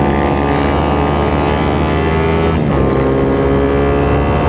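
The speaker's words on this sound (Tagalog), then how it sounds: "Tapos syempre mabilis na motor." A fast motorcycle ride, a loud steady engine drone with wind rush close by, holding a constant roar throughout with a brief dip midway.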